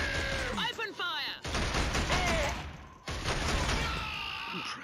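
Gunfire in the Killzone video game: loud, dense automatic bursts and sharp cracks in two main volleys, mixed with whistling and whooshing effects and some voices.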